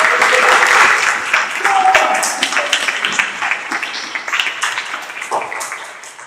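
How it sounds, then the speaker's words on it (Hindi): A congregation at a Sunday prayer meeting claps loudly and continuously, with a voice speaking over the applause. "यीशु मसीह के जोर का ताली बजाओ"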